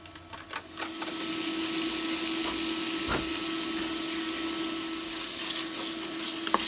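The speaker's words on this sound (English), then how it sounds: "So we fry this bacon on a medium heat, so some of the fats will come out." Bacon sizzles and crackles steadily in a pan over medium heat at an outdoor cooking setup, a close continuous frying hiss with a few louder pops and stirring clinks, no voices.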